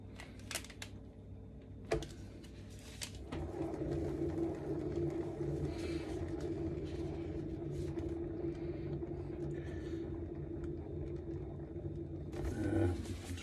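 A spin art machine whirls an offset canvas with a steady, droning mechanical hum and rattle that runs throughout at a moderate level, with a few brief knocks near the start and toward the end.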